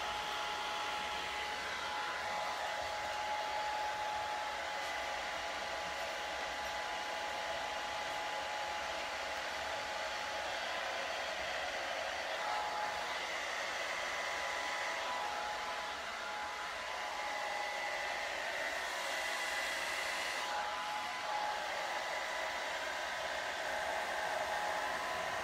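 A hair dryer blowing on hair, a steady, even whooshing drone that runs unbroken and fairly close for the whole stretch, with no talking.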